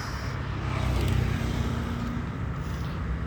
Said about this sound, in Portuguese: Pode ver que o barulho aqui não está muito intenso, porque o trânsito está bem tranquilo,